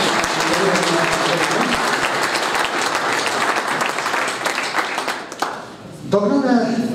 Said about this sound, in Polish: No i jeszcze raz brawa dla gości.